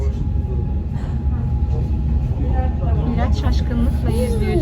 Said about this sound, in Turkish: Anne bu tren çok hızlı gidiyor.